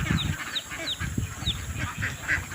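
A flock of domestic ducks in a farm enclosure quacks and honks, with repeated nasal calls overlapping at close range over a steady background hum, and no talking.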